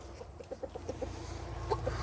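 Chickens on a homestead clucking in a steady series of short, soft pulses, close by, with a few louder calls toward the end over a low background rumble.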